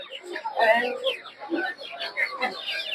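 Several chickens cluck and chatter close by at a poultry market in Narsingdi, Bangladesh, overlapping in quick bursts, with voices mixed in.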